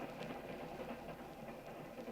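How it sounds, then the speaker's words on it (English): Steady low rumble of a train riding on the rails, a continuous faint rolling drone with soft repeating clicks from the wheels, heard from inside a carriage with no voices. "I leaned back and closed my eyes, listened to the rhythm of the train."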